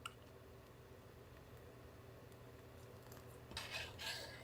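A tool stirs and agitates coffee grounds in a V60 pour-over brewer, giving soft scraping and light clinking against the cone, quiet and continuous, with a brighter clatter near the end.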